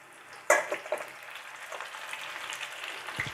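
Paneer 65 pieces dropped into very hot oil at once, a sharp burst at the start settling into steady close crackling and bubbling fry.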